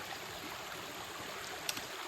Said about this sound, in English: And crossing the creek again.